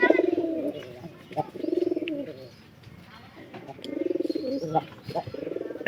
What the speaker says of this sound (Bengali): তার মধ্যে উপরের ঘরের পায়রাটা এখন খড়ি টানতাছে।